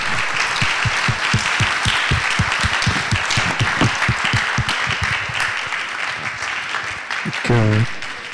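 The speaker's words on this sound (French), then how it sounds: "On peut applaudir Vincent et nous." An audience applauds steadily, a dense patter of many hands clapping nearby, with some voices mixed in and a short vocal sound near the end.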